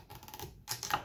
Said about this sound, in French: je coupe de petits morceaux comme ça.